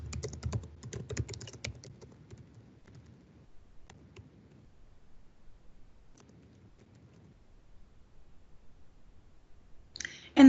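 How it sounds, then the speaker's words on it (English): Someone typing a comment on a computer keyboard, with a quick burst of close key clicks followed by scattered lighter taps and a final sharp click. "So I'll type in here my comment to the approver."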